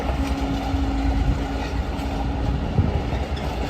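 Two coupled Class 66 diesel locomotives haul a train past at York, making a heavy, continuous rumbling drone with a low steady engine hum and faint rail clatter, loud and close throughout.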